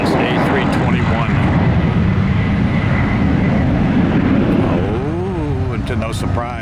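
A ten-year-old Airbus A321 airliner at Phoenix Sky Harbor roars steadily and loudly throughout, with broadband jet rumble and a rising whine toward the end as it passes.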